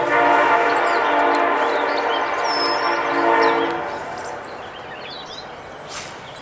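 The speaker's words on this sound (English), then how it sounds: "Gotta love that train." A train rolls past a fishing spot in Ontario, its loud, steady rumble joined by a sustained horn blast that stops after a few seconds, leaving a quieter fading roar and faint birdsong.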